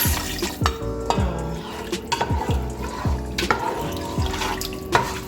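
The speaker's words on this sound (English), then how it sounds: "So I'm pouring water in it" Water pours and splashes into a cooking pot for bitter leaf soup, with irregular drips, glugs and light knocks from the vessel.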